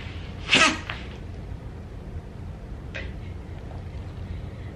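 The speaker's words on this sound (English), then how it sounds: "That was an interesting sneeze, wasn't it?" A single sharp sneeze bursts out near the start, followed by quiet room noise and a faint short sound a couple of seconds later.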